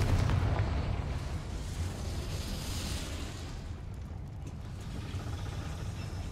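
A Confringo fire spell explodes in the Hogwarts Legacy video game, heard as a loud, dense rumbling blast that starts strongest and slowly settles into a sustained roar.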